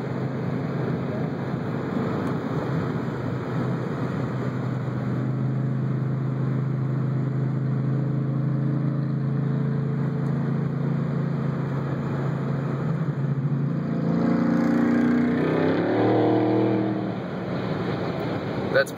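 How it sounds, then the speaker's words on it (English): A Mansory Mercedes-Benz SLR's engine roars loudly at half throttle: a steady, heavy drone that swells louder toward the end before easing off. "That's probably about half throttle, not even not fully on it, and the car is ridiculously loud."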